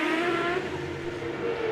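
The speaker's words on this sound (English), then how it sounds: "Minardi Team USA car." A Minardi Team USA Champ Car race car screams past during practice at Surfers Paradise in 2007, its engine a sustained high whine, steady and moderately loud, with no one talking.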